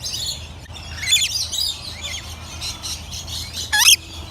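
Several small birds chirp and call back and forth in quick, bright bursts, with one louder squeaky call near the end over a quiet outdoor background, no voices.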